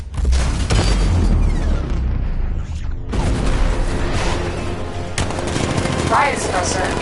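A 60mm cannon fires in the Batman: Arkham Knight video game, giving heavy rapid booms and bursts of gunfire with loud blasts and rumbling debris, and voices from the game speak over parts of the barrage.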